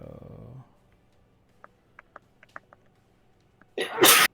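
After quiet with a few small clicks, one loud, abrupt sneeze bursts out near the end, close to the microphone.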